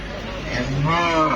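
A cow at a cattle market lets out a low, drawn-out moo that swells in loudness toward the end, close by, with faint background murmur.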